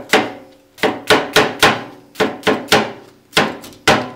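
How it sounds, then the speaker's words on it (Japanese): Green onion being chopped with a knife on a cutting board: about a dozen sharp, loud knocks close by in an uneven rhythm, some in quick pairs and triplets, with no talk. "輪切りよりも個人的に細かい方が好きなんで、"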